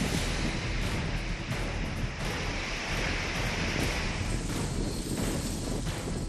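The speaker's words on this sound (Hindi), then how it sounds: "मैं इस समय हूँ दीघा के सी बीच पर, जहाँ पर कई गुना ज्यादा ऊंची लहरें थीं।" Sea waves pound Digha beach in Bengal in the aftermath of a storm, a constant loud roar of surf mixed with heavy wind buffeting the microphone.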